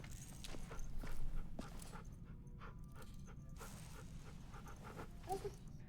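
A dog pants rhythmically in The Walking Dead Final Season game, quick breathy huffs close by, with a soft whimper and light footstep sounds over a low ambient bed.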